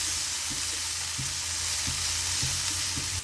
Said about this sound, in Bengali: এখন আমি টমেটো দিয়ে দিচ্ছি। টমেটোগুলো একটু মেল্ট করে নেব,